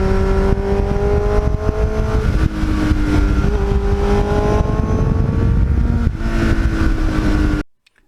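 Kawasaki GPX750R motorcycle, a 1980s sport bike fitted with a Muzzy exhaust, rumbles steadily and loudly up close with shifting engine tones, then cuts off abruptly near the end.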